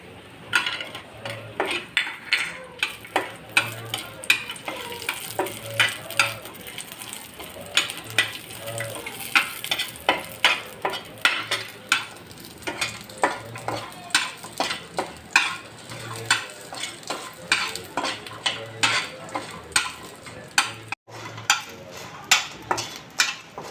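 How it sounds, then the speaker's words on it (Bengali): Soft frying sizzle of masoor dal vadi (dried lentil dumplings) in oil runs underneath a steady series of scraping and clinking stirs, a spatula turning them in a pan every second or so. "এইটা আমি তেলে ভালো করে ভেজে নেব"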